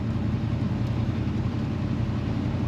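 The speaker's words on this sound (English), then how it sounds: "Nice rumble to the exhaust of this car." Steady, loud low exhaust rumble from a 1970 Chevrolet Chevelle 454 SS tribute, a continuous deep engine drone heard from inside the car, with no talking.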